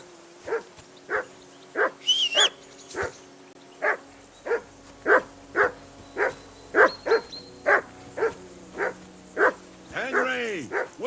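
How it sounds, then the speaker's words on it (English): A dog in the video game Kingdom Come: Deliverance II barks about twenty times in a steady, evenly spaced series, loud and close, with a short whine near the end. "Get that mutt of yours to stop barking, will you?"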